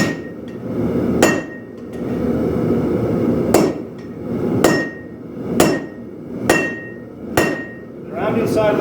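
Sharp metallic hammer blows on steel over an anvil horn ring out one at a time, six strikes at a steady pace over a low background hum, close and loud, forging a knife from a coil spring.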